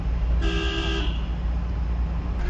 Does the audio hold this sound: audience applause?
no